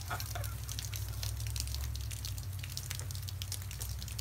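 Hot water splashes and trickles over a snow-covered satellite dish outdoors, a close, steady wash of dripping liquid that carries on without pause.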